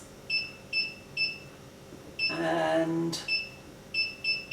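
A 2-liter ultrasonic machine beeps as its timer is set: a run of short, evenly spaced electronic beeps, broken by a longer buzzing tone, with a brief spoken word nearby.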